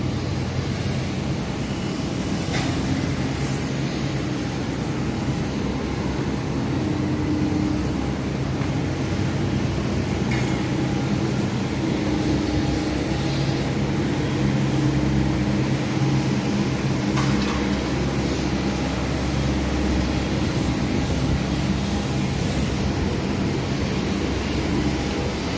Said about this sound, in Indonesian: Ini pesawat yang mau siap berangkat.